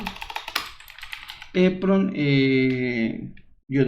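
A file name is typed on a computer keyboard: a quick burst of sharp key clicks for about a second and a half, then a voice starts talking in Spanish and carries on over the rest.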